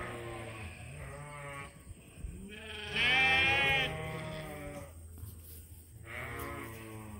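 Several ewes bleat at close range in a sheep pen, with long wavering calls and one loud, high bleat in the middle over a steady background hum.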